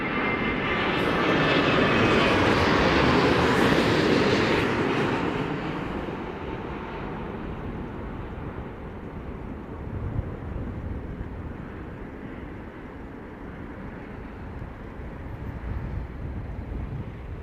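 A large airliner lands in strong gusty wind at London Heathrow, its engine roar loud and broad at first, then easing into a steady rumbling whoosh with wind buffeting the microphone.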